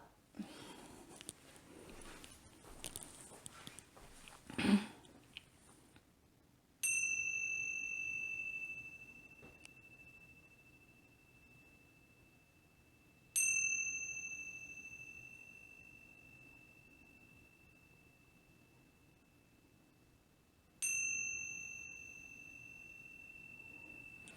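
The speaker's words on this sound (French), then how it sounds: "les cloches tibétaines, les kincha, ça s'appelle" Tibetan kincha bells struck three times, each a bright, sustained metallic ring with a long slowly fading tail, spaced several seconds apart, following a stretch of faint rustling and handling noise.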